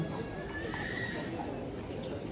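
A horse neighs and whinnies at a traditional wedding parade procession, with hooves clip-clopping amid steady crowd noise and voices close by.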